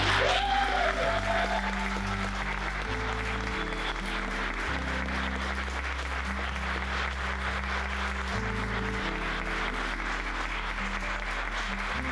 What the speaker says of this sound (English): May we clap?